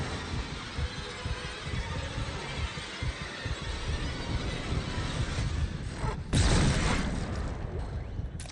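A heavy explosion bursts in the sci-fi horror video game Dead Space, a sudden loud boom rising out of dense rumbling game sound and fading over about a second.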